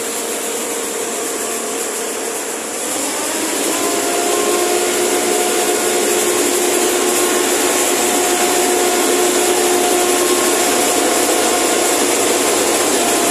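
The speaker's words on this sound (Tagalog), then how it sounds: "Umpisa na pong gumiling ng palay." Rice mill machine grinding unhusked palay into rice, a loud steady mechanical roar with a broad hiss and faint whining tones, rising slightly in level after a few seconds and holding constant.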